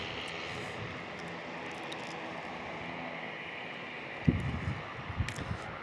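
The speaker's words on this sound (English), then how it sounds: "as we check out the Cessna 208 Caravan" A Cessna 208 Caravan turboprop drones steadily at San Diego International Airport, a faint, continuous broadband roar from a distance, with a few soft knocks nearby toward the end.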